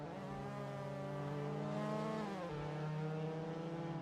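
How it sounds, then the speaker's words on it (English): A Mazda MX-5 Cup race car engine revs hard and high during a street-circuit race at St Petersburg, a loud, steady harmonic whine that climbs, dips briefly on a shift, then pulls again. "Paul is pushing that car. You can hear it revving. And it's revving a lot. Pushing it to very high revs."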